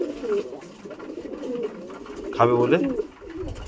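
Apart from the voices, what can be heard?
pigeons cooing while eating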